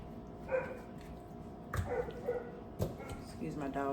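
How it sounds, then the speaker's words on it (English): A dog barks in the background of a kitchen during air-fryer hot wing preparation, giving a few short yips and barks spread through the clip while people talk over it. "Excuse my dog in the back."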